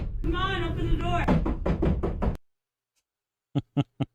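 A voice speaks briefly, then after a pause come three sharp knocks on a door in quick succession, close and clear.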